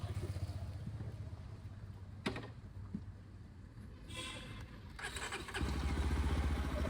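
Yezdi Adventure 2025 motorcycle engine running, a low steady rumble that swells louder toward the end as the bike pulls away, with brief mechanical clicks in between.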